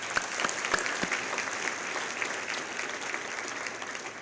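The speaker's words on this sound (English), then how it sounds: "Let's give him a round of applause." Guests at a community college scholarship dinner clap in a sustained round of applause, a few sharp claps standing out early before settling into an even, moderately loud patter.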